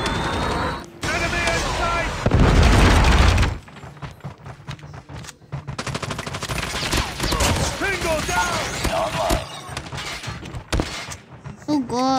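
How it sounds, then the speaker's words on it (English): A Predator missile strike in Call of Duty lands as a loud, dense blast lasting about two seconds, followed by scattered gunfire and crackling shots, with voices calling out during the action. "Predator missile inbound."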